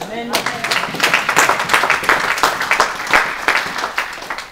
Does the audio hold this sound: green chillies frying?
no